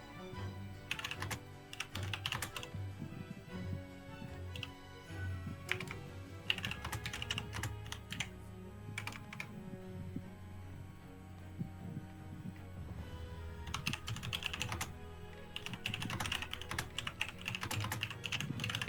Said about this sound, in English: Having fun typing over there?